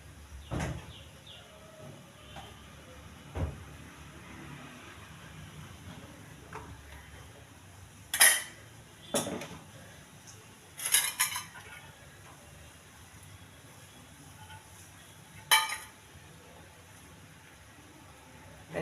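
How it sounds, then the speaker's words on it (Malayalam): Kitchen dishes and cutlery being washed give off sparse clinks and clatters, a few sharper knocks of plates and utensils standing out against quiet background. "ഈ പാത്രങ്ങൾ കഴുകി വെക്കുക"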